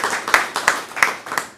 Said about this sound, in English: Give him a quick round of applause, everybody.